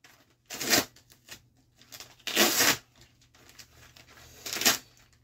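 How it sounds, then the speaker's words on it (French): Adhesive tape being peeled away in three separate rasping tears, close and fairly loud, with quiet rustling between them and no talk. "Il me reste un petit bout de scotch encore à enlever"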